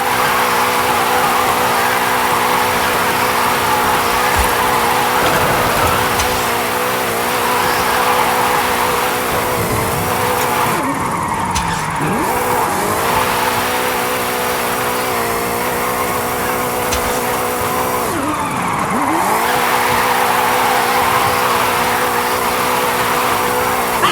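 Forza Horizon 5 car drifting: a loud, steady engine drone holds throughout, with two swooping pitch drops near eleven and nineteen seconds as the car shifts through the slide. Faint hissing tire squeal runs underneath.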